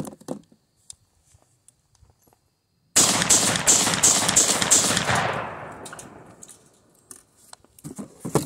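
Panzer M4 shotgun firing birdshot rounds outdoors: a loud burst of several rapid, evenly spaced shots that ring out and fade into a decaying echo, with quiet handling noises before and after.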